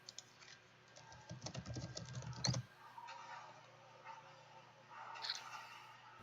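Computer keyboard typing, a quick burst of clustered keystrokes over the first two and a half seconds, then sparse faint taps over a low steady room hum.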